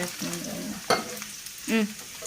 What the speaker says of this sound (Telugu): ఇది కొంచెం వేగిన తర్వాత పొడుగ్గా కట్ చేసి పెట్టుకున్న ఆనియన్స్ని ఇందులో వేసేస్తున్నాను